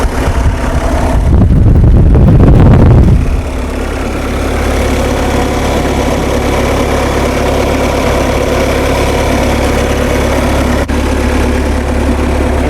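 A Bobcat 773 skid steer engine idles steadily up close with a loud, deep diesel rumble, after a brief louder surge at the start, running on evenly throughout.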